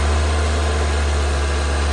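Car engine in an automotive lab, held at about 2,000 RPM, giving a loud, steady low hum with constant vibration and no talking.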